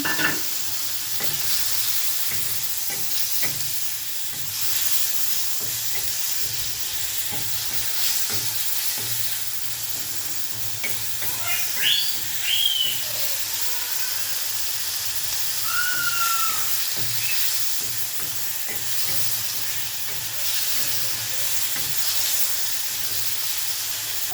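Onion and chopped tomato frying in a pan for a thin fish curry, a steady close sizzle with occasional stirring scrapes, no talking throughout.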